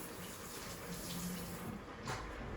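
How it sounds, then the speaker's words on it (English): Tap water runs steadily into a kitchen sink while hands are washed under it, a close, even rush with slight splashing changes. "I'm gonna wash my hands real quick."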